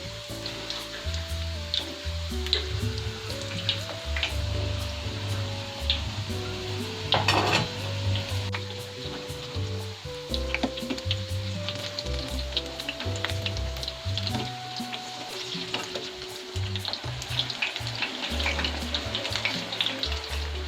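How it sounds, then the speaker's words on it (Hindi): Marinated chicken frying in a pan over a medium flame, giving a steady, close sizzle with occasional clinks of utensils against the pan, under background music. "इसे मैं मीडियम फ्लेम पर फ्राई करूंगी।"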